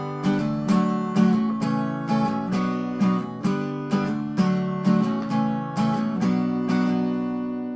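Acoustic guitar strums the pattern of a song in a steady down-down-up rhythm, each bright chord attack repeating evenly, close and clear, with no voices.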